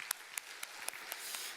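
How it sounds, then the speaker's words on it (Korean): A church congregation at a Sunday service applauds after a choir performance; a few scattered, faint claps build into soft, distant applause. "박수를 한번 올려드리도록 하겠습니다"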